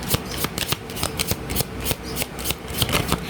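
Tarot cards shuffled by hand in quick repeated riffles and slaps, a steady papery rhythm of sharp bursts, close and clear with no talking.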